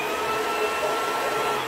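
A cordless vacuum cleaner runs steadily, a continuous loud whirring motor hum with airy suction hiss, unbroken for the whole moment with no voices.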